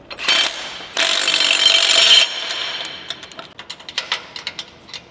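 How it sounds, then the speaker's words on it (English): A power tool whirs in a few short, loud bursts, then ratchets and clicks more softly while bolting a bracket onto a Ford F-450 pickup truck's suspension. No one speaks. "Now I just gotta bolt the bracket on and we're good."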